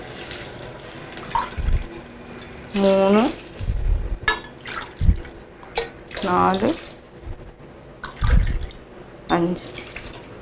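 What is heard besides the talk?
water poured into pan for corn rava upma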